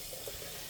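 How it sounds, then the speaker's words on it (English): Water is poured into an AeroGarden Harvest Elite Slim indoor garden to water the plants, a short, faint, steady hiss of liquid with no talking. "Alright, and then we're going to water the plants again."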